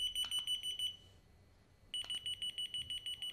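Several electronic key finder tags beep together in rapid, high-pitched pulses, pausing briefly before starting again, close by and fairly quiet indoors.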